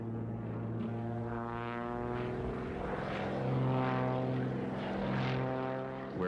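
A propeller airplane engine drones steadily in flight, loud and close with a strong harmonic hum that swells slightly midway, no voices.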